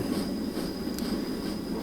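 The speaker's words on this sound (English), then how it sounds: "So there's our fish train." An AI-driven fish train runs in the Train Simulator game, with a steady, continuous rolling rumble of wagons on rails and a faint high whine, heard alone without talk.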